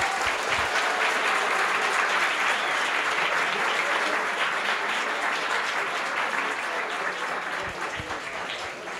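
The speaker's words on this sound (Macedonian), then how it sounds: "Нечки аплауз ве молам прво за Кристина." An audience at a tech talk on GraphQL APIs with NestJS gives speaker Kristina steady, full applause that runs for several seconds and eases off a little toward the end.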